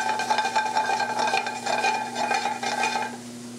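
Cooked crab meat sautéing in a pan, a close, even sizzle under rhythmic stirring scrapes, with a steady background hum and no speech.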